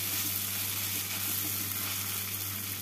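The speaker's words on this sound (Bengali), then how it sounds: "পেঁয়াজের সাথে টমেটো, আদা আর কাঁচা লঙ্কাটাকে 2 মিনিটের মতন ভেজে নিলাম।" Onion, tomato, ginger and green chilli fry together in a pan for chana masala, producing a steady, even hiss of sizzling oil over a low constant hum. Close, with no talk.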